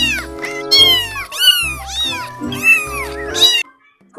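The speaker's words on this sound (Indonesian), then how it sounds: "Wow, ada kucing." Cat meowing in Jurassic World Evolution 2, several loud, close, drawn-out meows in a row with wavering pitch, ending in a brief silence.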